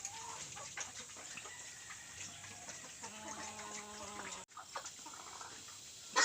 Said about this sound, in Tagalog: yung pinapakain niya yung kanyang alagang manok